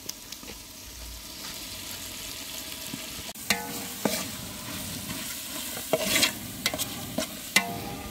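Tomato masala with turmeric, chilli and coriander powder frying in a pan, a low continuous sizzle at first, then a run of sharp spatula scrapes and clinks against the pan.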